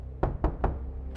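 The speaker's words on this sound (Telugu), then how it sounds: "ఎందుకు తలుపు కొడుతున్నారు?" Three sharp knocks on a door in quick, even succession, close and distinct, followed by a pause and the start of a fourth knock.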